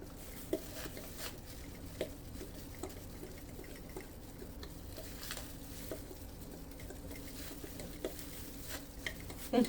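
Lumpy sourdough starter being stirred in a bowl, a quiet, continuous scraping and slapping with periodic soft knocks of the utensil, close and alone without speech.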